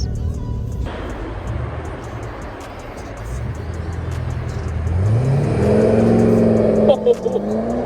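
A Porsche sports car at an outdoor Porsche car show revs its engine, the tone rising and swelling louder over the last few seconds, with faint crowd chatter and background noise.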